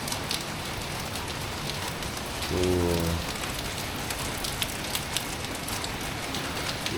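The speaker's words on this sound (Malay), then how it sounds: "Hujan lebat." Steady, heavy rain hisses across all frequencies with scattered drips; a short voice briefly speaks partway through.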